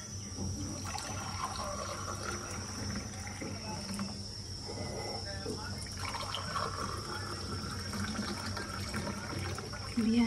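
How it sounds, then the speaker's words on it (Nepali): Hot water is poured into a cup in a home kitchen, a faint, steady liquid trickle and fill sound heard quietly against a low room background. "अब चाहिँ म साथीहरु तातो पानी सर्भ गर्छु"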